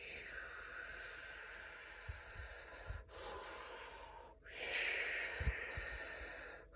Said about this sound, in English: taking some deep breaths to really come down into your body more